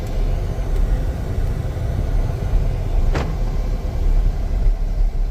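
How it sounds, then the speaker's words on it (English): Delivery truck drives along in St. Louis suburbs with a steady low engine and road rumble from inside the cab, one brief click midway, no talk. "Okay, we're going to jump back in the truck now. We're going to get underway."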